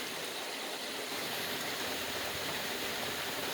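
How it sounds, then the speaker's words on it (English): Heavy rain pours steadily on a garden with a rain gutter feeding a pipe, a dense, even broadband hiss that stays loud and unbroken throughout with no voices. "This is like a swale filling rain."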